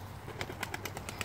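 At a funeral, a released dove beats its wings in a quick run of soft, rhythmic flaps, close and clear over a quiet outdoor background.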